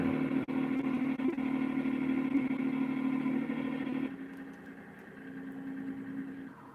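A video-game truck's deep V8 engine rumbles steadily at a low idle, close and continuous, its tone dropping slightly partway through with a faint mechanical clatter.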